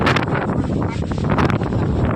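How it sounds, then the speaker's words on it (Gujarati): Storm-strength wind roars loudly and continuously, buffeting the microphone with a dense rushing noise and no pauses. "વાવાઝોડા જેટલો પવન છે."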